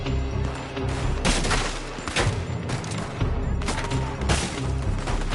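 Gunfire in Red Dead Redemption 2: a dense, continuous volley of shots with heavy booms and sharp cracks throughout, loud and close, with no clear talk over it.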